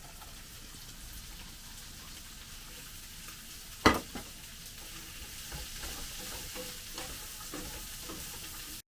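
Carrots frying in a pan in a motorhome kitchen, a soft steady sizzle with scattered stirring scrapes and one sharp clatter near the middle, quiet and close.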